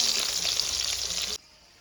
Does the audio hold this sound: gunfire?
no